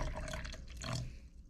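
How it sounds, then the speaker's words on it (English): Water being poured into a protein shaker cup, about 300 milliliters, a steady close splashing fill that rises and thins toward the end. "Let's get 300 milliliters of water in the shaker cup."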